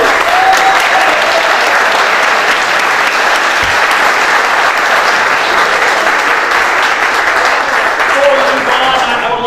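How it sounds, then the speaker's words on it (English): A crowd at an exhibit dedication in Springfield applauds Phil Simms, with dense, loud, sustained clapping that runs steadily for about nine seconds and no talking over it. "Can everybody give him a round of applause, please?"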